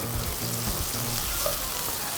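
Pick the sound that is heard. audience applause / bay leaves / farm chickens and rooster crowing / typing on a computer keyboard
bay leaves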